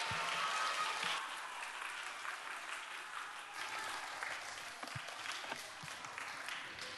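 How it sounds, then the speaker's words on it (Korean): Applause from a church children's group welcoming a pastor to the front, a steady broad patter of many hands lasting throughout, moderately distant and fairly soft, with a few sharper claps standing out. "앞으로 오실 때 큰 박수 보내주시기 바랍니다"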